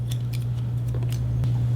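Hair shears snip over a comb during a shear-over-comb haircut, giving quick light clicks in a steady rhythm over a low constant hum.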